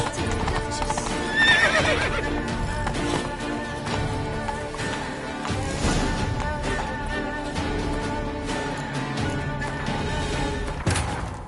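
Horse hooves clip-clopping at a gallop in The Witcher 3 video game, a steady loud drumming rhythm with occasional whinnies and game music underneath, close and continuous.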